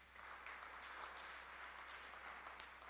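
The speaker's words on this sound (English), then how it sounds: "I think we deserve a round of applause right now." Faint, steady applause from a university conference audience, a dense patter of clapping heard from a distance without a break.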